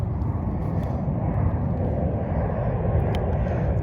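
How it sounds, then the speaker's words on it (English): An airplane passing overhead makes a steady, loud broadband roar that holds at an even level throughout, with no talking. "I know the plane is yelling right now"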